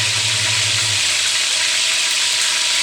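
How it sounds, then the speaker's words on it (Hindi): Chicken pieces frying with turmeric in a hot pan for pulao, a loud, steady sizzle close by with a spoon stirring through it. "चिकन डाल दिया है, चम्मच चला चिकन।"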